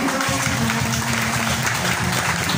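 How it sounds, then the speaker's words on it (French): Dense, steady applause from a large church congregation, loud and continuous throughout with no pauses. "Donne un applaudissement au Seigneur."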